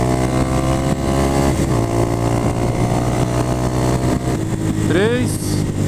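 A Yamaha Fazer 250 motorcycle engine drones steadily on a ride out in Sertãozinho, with a loud continuous hum and a rising rev near the end, while riders talk over it.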